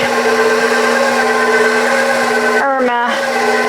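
Electric whisk whirs loudly and continuously while beating stiff-peaked mixture for keto bread, then briefly cuts out and restarts near the end.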